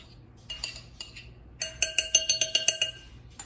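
Tempeh strips are stirred in marinade, with a utensil ringing against a glass or ceramic bowl. It begins with a few scattered clinks and moves into a quick, regular run of bright, close taps.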